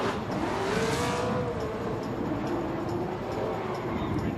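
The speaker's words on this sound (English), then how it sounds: "Big old V8 engine under the hood of that vehicle." A Roush V8-powered Nissan S13 drift car roars along a Long Beach street circuit during Formula Drift qualifying, its engine note sustained and wavering in pitch over steady broadband noise, fairly loud and close throughout.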